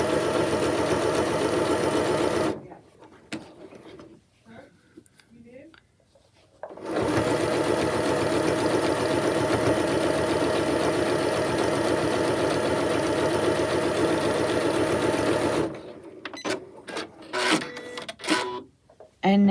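A sewing machine stitches down quilt binding in two long, steady, close runs of rapid mechanical whirring, separated by a quieter pause with light handling sounds and a short burst of stitching at the end.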